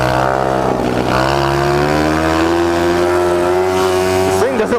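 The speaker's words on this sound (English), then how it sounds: "Oh, this exhaust is actually pretty decent." A mini bike engine with an automatic three-speed runs loud and close through its exhaust, holding a steady, slightly climbing drone for several seconds before a brief wobble at the end.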